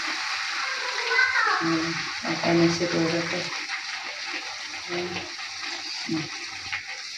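Water is poured into a cooking pot while pinakbet is being made, a soft splashing gush heard close up under a person talking.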